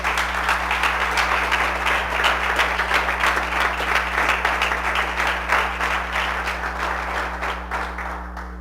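A church congregation applauding loudly and steadily in a sustained burst of dense clapping during a sermon, with a low electrical hum underneath and no speech.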